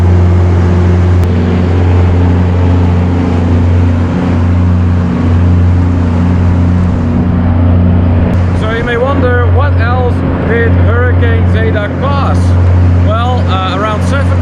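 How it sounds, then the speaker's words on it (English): An emergency power generator running in a building after a hurricane gives off a steady, loud low-pitched engine hum throughout, with people talking over it in the second half. "the sound you hear comes from this building over here, which we believe is the generator that provides us with an emergency supply of electricity"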